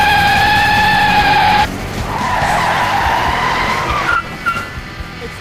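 Racing car intro effect: a loud, high tire squeal and skid with engine noise, then a rougher sliding skid and a fading tail of squeaks, with no talking.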